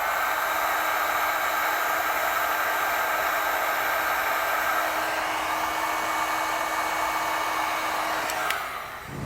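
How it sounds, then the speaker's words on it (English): A heat gun blows a steady, loud, hissing rush of hot air while sealing heat-shrink over butt connectors on a trailer wiring kit, running without a break for about nine seconds before a brief dip at the end. "I'm going to come back with my heat gun and seal up those ends"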